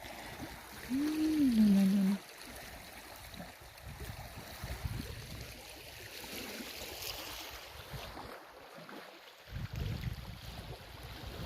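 Fast water rushes over rocks in a Norwegian river, a steady broad roar heard outdoors with a brief low voice-like hum near the start.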